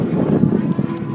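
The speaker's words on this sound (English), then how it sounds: "of course here comes a jet. You hear the airplane?" A jet airplane passes overhead on a windy day at Newport Back Bay, heard as a steady, broad low rumble mixed with heavy wind buffeting on the microphone.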